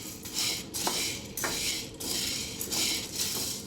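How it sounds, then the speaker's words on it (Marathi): Chickpeas being stirred while roasting in a pan over a medium gas flame, with repeated scraping and rattling sweeps against the metal in an uneven rhythm, close and moderately loud. "मीडियम गॅसवरती 4 मिनिटं आणि सारखं हलवत राहायचं, म्हणजे खाली ते जास्त एकाच ठिकाणी भाजणार नाही."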